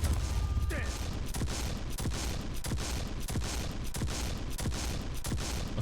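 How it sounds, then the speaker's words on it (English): A super shotgun in the video game Quake Champions fires in rapid succession, with about a dozen loud, evenly spaced blasts over a constant background rumble. "So the shotgun rate of fire is really strong."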